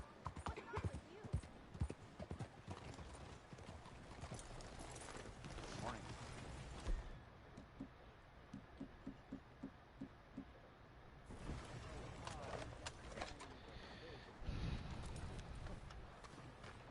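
Horse hooves clip-clop in Red Dead Redemption 2 in a quick, steady rhythm, fairly faint under game ambience with rumbling and rain-like hiss, and voices talking around it.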